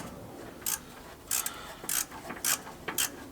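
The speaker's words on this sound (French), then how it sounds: "T'entends ce petit bruit de cliquet?" Ratchet clicking while loosening a screw during fitting of a dump valve on a car, six crisp bursts of rapid clicks at roughly half-second intervals, close and clear with no talking.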